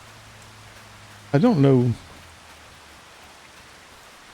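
Rain falls in a farming video game as a faint, steady hiss in the background, and a voice briefly speaks over it partway through.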